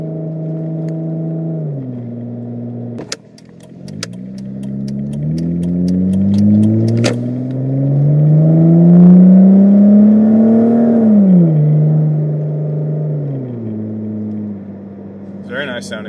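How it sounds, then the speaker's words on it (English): A 2007 Hyundai Tiburon GT with a 4-speed automatic rising through revs from the cabin, its engine and exhaust droning loudly with pitch climbing through a gear change and then falling away, while a voice talks over it. "Very nice sounding exhaust."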